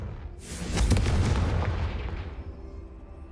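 The Confringo explosive spell from Hogwarts Legacy goes off as one loud, booming blast that bursts sharply and rolls away into a fading rumble. No voices are heard.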